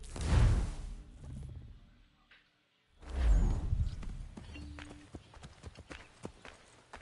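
Horse hooves in the video game Assassin's Creed 3 clop along at a steady pace, with soft whooshing movement sounds and a short gap partway through; quiet and close, with no talking.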